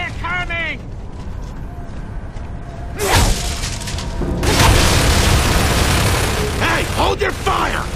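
Enemy gunfire in Gears of War 3 on hardcore mode: loud booming blasts and mechanical clatter break in mid-way and continue as a dense barrage, with voices shouting over the fight.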